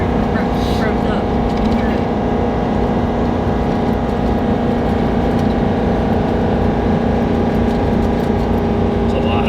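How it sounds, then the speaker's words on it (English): A 2024 Ford F450 diesel pickup with its exhaust brake engaged while towing downhill, giving a steady, loud droning engine roar with a constant low hum throughout. "The exhaust brake revved up."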